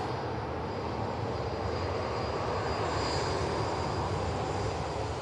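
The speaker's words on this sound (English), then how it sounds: "Slight few little engine run-ups, but nothing too drastic, nothing too noisy" Steady, continuous roar of an aircraft engine at Manchester Airport, a broad sustained drone with a faint high whine over it, alone with no talking.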